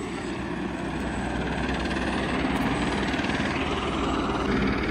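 Helicopter flying near Gosaikunda lake in the high Himalayan mountains, a steady loud rotor and engine drone sustained throughout with no speech.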